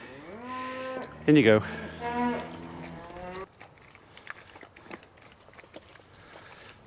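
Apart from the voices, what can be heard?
cows mooing while being herded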